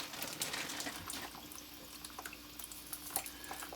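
Water trickling and dripping as it drains from a bidet supply line, a quiet, steady pour with small splashes and drips throughout, fairly close and alone.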